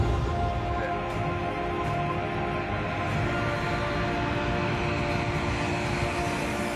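A large 120-tonne airplane landing, a loud continuous engine roar with steady tonal whine, close and sustained without talk.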